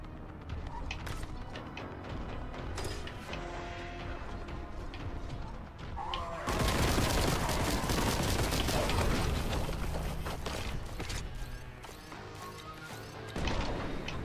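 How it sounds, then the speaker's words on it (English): Rapid gunfire and bursting enemy explosions in the retro shooter Warhammer 40,000: Boltgun, loud and continuous, with a heavier wave of blasts and crashes partway through; no talk. "They shoot them a couple of times and they explode."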